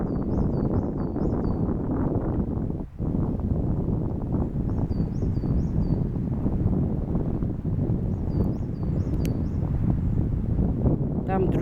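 Strong April wind buffets the microphone outdoors in a steady, loud roar that fills the whole stretch with little pause, with a brief dip near the start; no speech can be made out.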